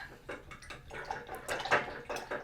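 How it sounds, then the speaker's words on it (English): An acrylic paintbrush is swished and rinsed in a cup of water, making soft, irregular splashing and sloshing close by. "Now let's give our brush a nice wash"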